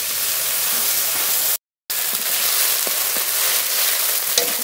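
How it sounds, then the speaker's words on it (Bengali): A ground paste of dried chili and cumin with a splash of water sautés in hot oil, giving a loud, dense, continuous sizzle. The sizzle cuts out briefly for a moment and then resumes. "মশলাটা খুব ভালো করে কষিয়ে নিয়েছি"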